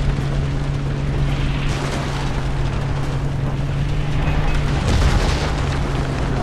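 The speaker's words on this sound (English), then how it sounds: "you might be hearing these explosions going off" Explosions in the video game Far Cry 3: a continuous low rumbling roar with a steady hum, swelling into a heavier boom near the end, like distant explosions going off.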